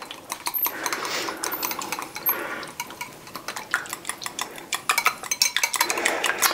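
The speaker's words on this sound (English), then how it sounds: "I'm just going to whisk this first" A whisk beats egg yolks, sour cream, vanilla extract and liquid stevia in a bowl, producing close, rapid rhythmic clicking and scraping against the sides, in irregular bursts that grow quicker and louder toward the end.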